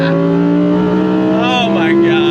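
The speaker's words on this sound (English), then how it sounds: "These fast downshifts." A modified Audi R8 Performance supercar at full song, its engine note loud and close, with a steady high-revving drone broken by quick downshift blips toward the end.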